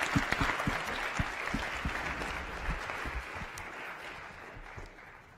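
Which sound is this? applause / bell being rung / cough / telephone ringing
applause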